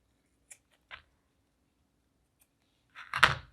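A few faint snips, then a slightly louder crisp cut near the end, as scissors trim off the excess of a fake whipped cream craft topper in an otherwise quiet room.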